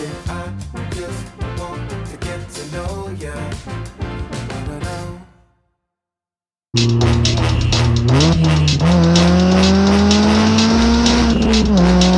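A finished GTT R53 car is driven for the first time, first a rough rhythmic mechanical clatter, then a pause, then a loud close engine rising through the revs with a whining, climbing tone.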